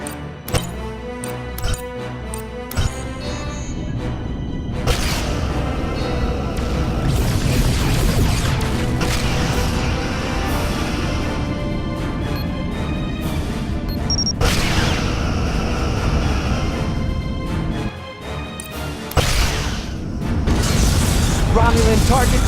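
Phaser fire and explosions as a Romulan ship is destroyed in the Star Trek: Legacy game, a loud sustained barrage of booms and crashes lasting throughout, under bursts of game voice dialogue.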